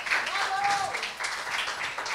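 Audience applause for a young winner at a children's puzzle contest in Port-au-Prince, a moderate, steady patter of clapping under a speaker's voice.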